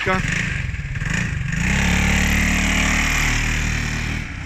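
A Suzuki Burgman 400 maxi scooter engine idles with a low steady hum that swells as it revs up, close by, with a person talking over it.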